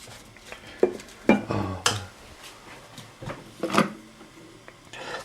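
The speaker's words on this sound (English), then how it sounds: "This is how we make tea." Cups and spoons clink while tea is made, with sharp ceramic and metal taps and knocks scattered irregularly over a quiet room, several louder strikes standing out.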